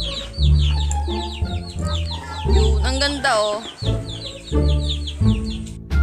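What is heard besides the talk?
chickens clucking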